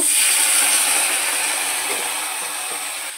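Spices with turmeric, red chili powder and a splash of water frying in a pan, a steady loud hiss and sizzle that slowly fades, with no voices.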